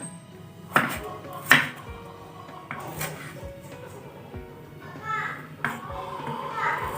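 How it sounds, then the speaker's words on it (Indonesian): Knife slicing shallots for an Indonesian stir-fried water spinach dish, a few sharp chopping strokes on a cutting board, close and spaced out, with faint background voices and kitchen noise. "kita iris terlebih dahulu ya teman-teman, semua bumbunya. Ini ada bawang merah"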